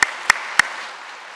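A church congregation applauds briefly during a Sunday worship service, three sharp, distinct claps ringing out in a reverberant hall and fading away.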